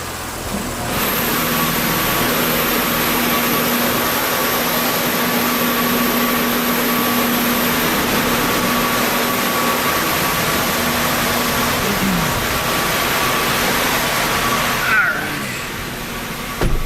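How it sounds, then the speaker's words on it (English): A 2022 Audi S5 held at a steady, loud engine drone on a dyno for a sustained pull, tone nearly constant before easing off near the end, with faint talk underneath. "Let's do one final pull here to just get this thing off the dyno."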